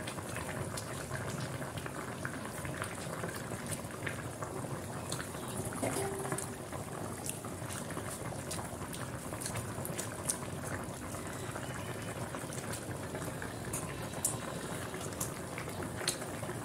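A pot of meat curry simmering on the stove, a steady close bubbling and boiling hiss that runs unbroken, with no talk.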